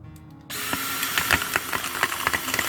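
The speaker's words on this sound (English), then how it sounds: "How to drill holes in the bottom of my cups." A power drill bores through the bottoms of a stack of plastic garden cups, whirring steadily after starting abruptly, with rattling bursts as the bit catches.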